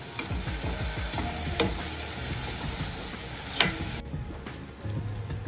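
Shevla, a monsoon wild vegetable, being sautéed in a pan, with steady frying sizzle and repeated stirring scrapes and clinks throughout, close and fairly loud, no talk.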